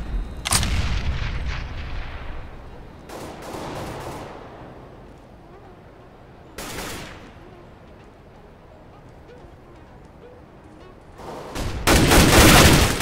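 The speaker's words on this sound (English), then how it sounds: "Throwing a grenade!" Bursts of explosions and gunfire in a Counter-Strike matchmaking game, with a grenade blast among several sharp loud booms separated by quieter stretches, ending in a sustained heavy burst.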